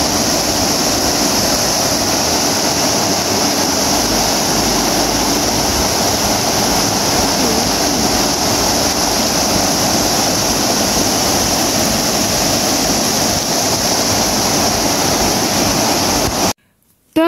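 A small mountain spring runs in a steady, close rushing wash of water that fills the whole stretch without a break, then cuts off abruptly near the end.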